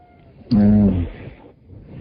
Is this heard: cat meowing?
yes